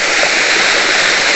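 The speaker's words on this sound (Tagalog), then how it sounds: "Ito siya, yung sinasabi kong waterfalls guys o." Two small waterfalls in a creek pour with a loud, steady rushing hiss, close by and unbroken, no voices.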